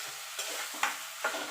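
Pre-fried potatoes being stirred into a ground spice paste in a pan for a home-style fish curry, a few close scraping stirs over a low, steady sizzle, quiet and with no voices.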